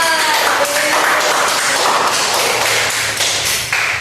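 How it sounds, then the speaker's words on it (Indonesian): A class of students claps for a classmate named Mawar after her answer, a steady dense patter of hands filling the room at a fairly loud level with no talk over it. "Kita kasih aplaus dulu untuk Mawar."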